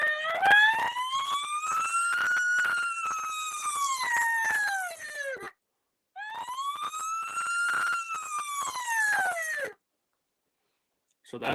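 Two long rising-then-falling squealing notes blown on a latex diaphragm elk call, each climbing to a controlled high pitch and sliding back down, loud and close, separated by a short pause with no talking.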